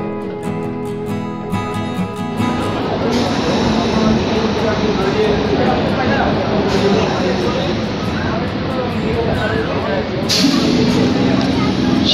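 A Kolkata local train on the Sealdah to Princep Ghat line rolls across a bridge on single track, giving a continuous loud rumble and clatter of wheels while a voice talks over it.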